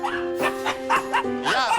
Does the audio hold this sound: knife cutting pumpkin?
no